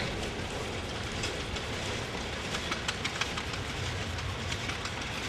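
A vintage Beaver tractor from Brantford, Ontario, runs in a threshermen's reunion parade. Its steady, loud mechanical roar continues throughout, with faint clicking and rattling on top and no talk.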